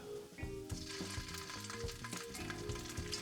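Garlic fries in oil in a tilted pan, giving a steady close sizzle with light scraping as it is stirred often.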